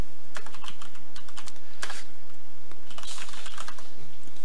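Computer keyboard typing of a tar extraction command on a Linux server, a quick run of crisp key clicks in bursts with short pauses, close and alone without talk.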